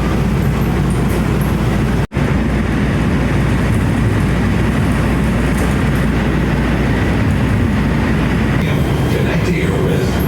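An LA Metro E Line rail train rolls along with a loud, steady rumble and hum from inside or close by, broken by one sharp click about two seconds in, with no break in the running noise.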